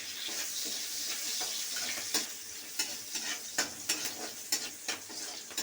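Beans frying in a pan for a spicy Maggi noodle dish, a steady sizzle under repeated scraping stirs of a utensil against the pan, close and fairly quiet, no voices.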